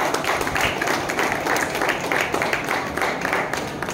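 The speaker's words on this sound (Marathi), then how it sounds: "तो एकदा जोरदार टाळ्या होऊन जाऊ दे सगळ्यांसाठी" A crowd applauds the coaches at an opening ceremony for state youth games, steady sustained clapping from many hands that holds evenly throughout.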